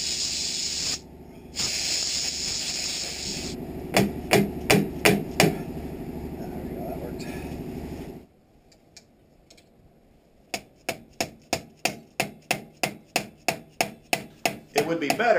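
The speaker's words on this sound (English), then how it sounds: "You drive the gland forward into the cylinder." A hammer strikes a screwdriver to drive a Westendorf hydraulic cylinder gland forward into the cylinder, giving two series of sharp metallic taps separated by a hissy stretch and a brief quiet pause.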